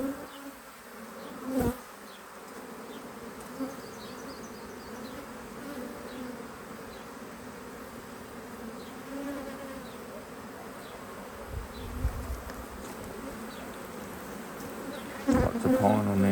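Honey bees buzzing steadily at an open hive recovering after a swarm, a dense close drone with occasional individual bees passing near, plus a few handling knocks.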